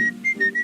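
Melodic whistling from a person in an old-time radio comedy scene, short bright tones rising and falling over a low background hum, fairly close and steady.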